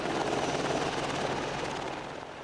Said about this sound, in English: As the helicopters passed over